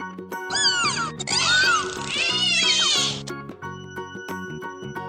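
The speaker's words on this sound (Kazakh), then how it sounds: "Дельфин." A run of high, squeaky dolphin whistles and chirps sweeping up and down for a couple of seconds, with music underneath.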